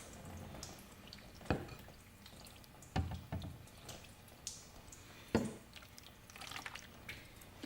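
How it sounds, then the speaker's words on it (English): Water rinsing polishing compound off a car headlight, heard as a soft running wash broken by a few sharper splashes and drips, the strongest at three separate moments, with no talking. "the next step is to rinse it off with more water"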